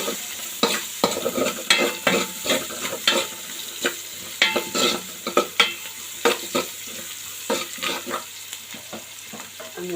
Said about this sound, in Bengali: জিরা দিয়ে দিলাম